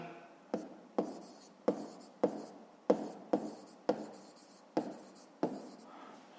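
Numbers being handwritten with a pen or pencil, about ten sharp scratchy strokes in an uneven rhythm, close and fairly loud, with no voices.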